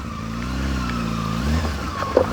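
A Honda Hornet motorcycle engine hums steadily while riding slowly downhill with the back brake dragging, a smooth low drone that dips slightly in pitch, close and alone without talk.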